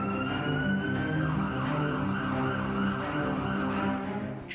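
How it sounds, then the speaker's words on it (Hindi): A wailing siren sounds across a city during a war-preparedness drill in Taipei, Taiwan, its steady rising and falling tone loud and sustained over distant traffic, with no voices. "शहर में सायरन का शोर रह रहकर सुनाई दे रहा है।"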